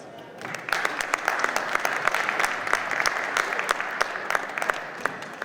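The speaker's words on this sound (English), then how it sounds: "Can we get a round of applause?" An audience at a veterans' panel event applauds a panelist after an introduction, a crowd of claps building quickly and holding steady, with sharp individual claps standing out and some faint talk underneath.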